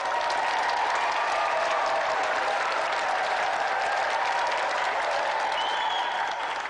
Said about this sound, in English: Let's give another round of applause for our two brilliant competitors tonight, Peter Deitch and Henry Coleman Jr.